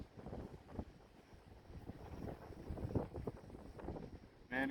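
Strong gusting wind buffets the microphone at an outdoor shooting range, a loud rumbling roar that swells and eases continuously, with no voices heard.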